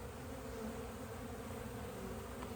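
Honeybees buzz steadily around an open hive colony in a 10-frame box, a dense, continuous hum close by with no pauses.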